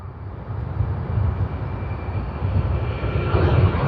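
Qantas QF103 airliner at Sydney Airport: a steady, broad jet-engine roar heard from a distance, slowly swelling louder over several seconds with a faint high whine.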